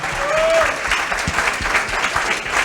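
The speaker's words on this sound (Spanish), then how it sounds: "vamos a pedir un aplauso para todos ustedes, porque es necesario." An audience at a flat-earth talk in Chile claps in a full, steady burst of applause with a brief murmur of voices mixed in.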